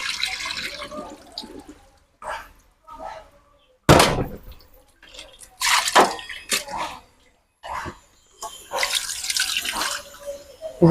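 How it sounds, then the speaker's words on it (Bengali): Tap water runs in bursts over goat meat being washed, splashing and gushing near at hand, with short pauses between the flows and clattering handling in between. "মাংসগুলো ধুয়ে নিতেছি"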